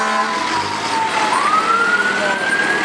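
A fire engine siren from New Boston engine number 1, a mutual aid truck at a patriotic celebration, wails loudly and continuously, its pitch dipping and then sweeping back up over rumbling traffic noise.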